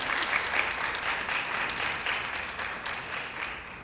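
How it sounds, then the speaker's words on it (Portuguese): An audience at an institutional event on refugees applauds, giving a steady, fairly close round of clapping that holds for several seconds and slowly fades. "Eu acho que você merece aqui uma salva de palmas da plateia"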